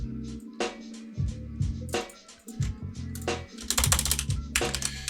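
Rapid, uneven keystrokes clatter on a computer keyboard, close and fairly loud, in irregular bursts with a denser flurry of typing toward the end and no voices.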